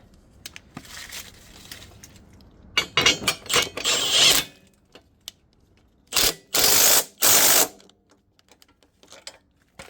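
A ratchet tightens the bolts of a front subframe chassis brace on an Infiniti G35/G37, giving close, loud clicking bursts in several separate runs with short pauses between them.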